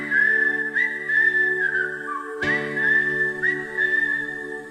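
A person whistles a melody from an old Bollywood song, steady and clear in a sustained bright tone, with a short pause midway before the tune resumes.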